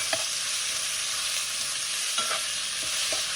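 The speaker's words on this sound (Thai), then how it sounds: "ผัดให้มันสุกนะเจ้าคะ" Minced pork and garlic stir-fry steadily in a hot pan for basil pork with pickled bamboo shoots, a constant loud sizzle broken by a few light scrapes of the spatula.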